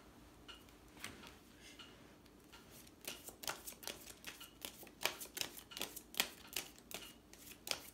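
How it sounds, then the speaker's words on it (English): Tarot cards are shuffled in quick, irregular bursts of crisp riffling and slapping, sparse at first and then denser and louder through the second half, close up with no talking. "Got cards flying everywhere."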